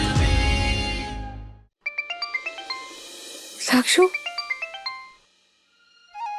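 A phone ringtone for an incoming call chimes in a quick, repeating electronic melody of bright tones, stopping and restarting, after a voice and a brief word in between.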